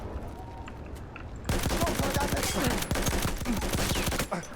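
Rapid bursts of Battlefield 1 gunfire, dense overlapping shots starting abruptly and continuing loud and close, with some quieter background chatter beneath.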